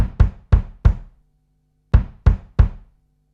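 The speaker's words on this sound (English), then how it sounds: "all together that kick sounds like this" Layered recorded kick drum built from close, inside and room microphones, struck seven times in two groups, four then three, each hit deep and punchy with a short decaying tail, loud and alone.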